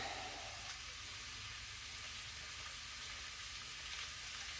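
Peppers, onions and ribeye for fajita lettuce wraps fry in a pan with a dense, continuous hiss, a close and steady sizzle without pause.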